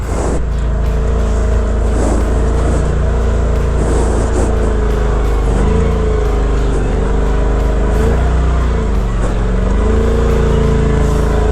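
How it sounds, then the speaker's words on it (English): An off-road 4x4 engine labours and revs over rock boulders on the Hells Revenge trail in Moab, Utah, loud and continuous with the pitch rising and falling as the throttle is worked. "Gonna need to give it some gas through that."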